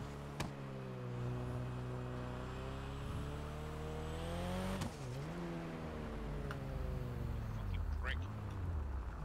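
Car in a roleplay driving game accelerating hard, engine tone climbing through gears with a brief drop near the middle, steady and close, with talk over it.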